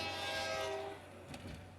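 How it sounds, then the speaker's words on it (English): A train passes in the SimCity BuildIt city-building game, a fairly faint rumble with a brief horn-like tone that fades within about two seconds, heard alone. "Okay, damn train."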